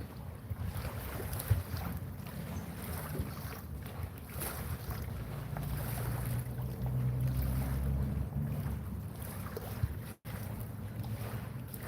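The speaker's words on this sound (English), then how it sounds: "This water is like so relaxing. The sound of it." Water flows and laps outdoors in a steady, moderate wash mixed with wind rumble against the microphone, continuous with no voices.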